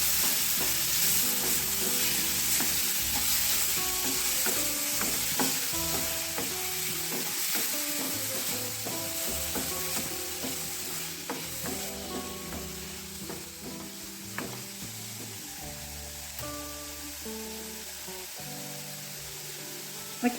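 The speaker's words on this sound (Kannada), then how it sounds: "ಫ್ರೈ ಮಾಡ್ಕೊಳ್ಳೋಣ." Raw banana cutlet mixture fries and sizzles in a pan, a steady hiss broken by repeated scraping strokes of a spatula stirring it, close and continuous with no talking.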